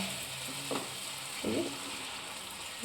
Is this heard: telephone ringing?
no